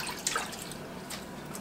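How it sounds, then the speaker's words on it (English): Collard greens are sloshed back and forth in a basin of water while being washed. The result is a soft, continuous splashing and dripping that is faint and close. "I slosh them and I transfer them back and forth a couple of times like this."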